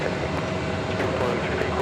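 Jet airliner taxiing on the ground at JFK airport, a steady broadband engine rumble and whine that holds level and continuous throughout, close by and fairly loud.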